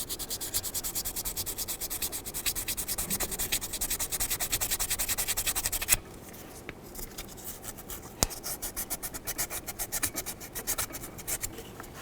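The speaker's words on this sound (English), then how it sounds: "I'm just going to sand it down with some sandpaper" Sandpaper scrubs a car battery terminal on a Dodge Journey in rapid back-and-forth strokes, loud for six seconds, then lighter, quieter rubbing with a sharp click partway through.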